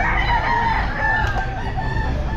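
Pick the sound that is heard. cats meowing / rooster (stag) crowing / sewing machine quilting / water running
rooster (stag) crowing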